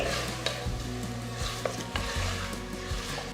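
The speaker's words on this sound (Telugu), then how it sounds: "రెండు చిన్న టొమాటోలు ఇట్లా తరిగి వేస్తున్నాను వేసేసి బాగా మిక్స్ చేసేయండి" Chopped tomatoes being mixed into biryani masala in a pan, giving a low sizzle with slow, periodic scraping stirs, close and moderately quiet, no voices.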